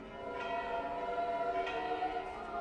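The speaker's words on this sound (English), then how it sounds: "The bells of the churches in Rome are resounding." Church bells in Rome ring with a sustained metallic resonance, distant and moderately soft, their overlapping tones hanging in the air.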